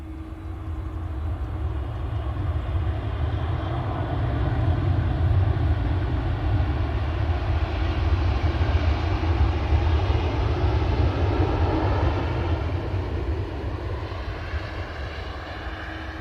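A Virgin airliner passing at Manchester Airport builds into a steady, sustained jet roar that swells and slowly fades as it goes by, moderately loud and alone without talk.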